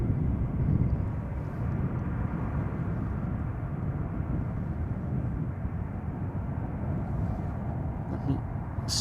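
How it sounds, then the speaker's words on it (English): An Aegean Airlines A320neo arriving from Athens and landing at Amsterdam Schiphol, a steady loud engine roar and rumble that holds throughout, with no clear talk. "Aegean is landing on runway center"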